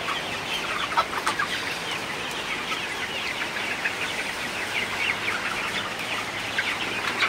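Sonali super hybrid chickens in a poultry house on a rainy morning give steady overlapping clucks and soft calls throughout, moderately near, over a constant low background hiss.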